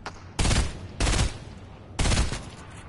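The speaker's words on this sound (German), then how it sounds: "Hier sind auch Gegner, Digga. Hörst du nicht die Explosion?" Explosions and gunfire in a video game: three loud, sharp bursts about half a second to a second apart, each a broad crackling blast that decays quickly, close and prominent.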